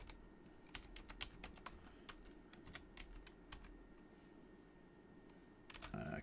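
One-handed typing on a computer keyboard, with irregular, fairly quiet key clicks spread across the stretch over low room noise, ending in a brief burst of busier clatter.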